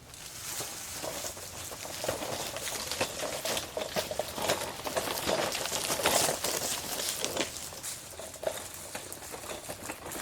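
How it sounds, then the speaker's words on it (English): Light rain sprinkles over an outdoor garden, a soft irregular patter of scattered drops that stays steady and fairly faint throughout. "Well, it's sprinkling."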